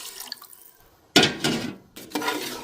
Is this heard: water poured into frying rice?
yes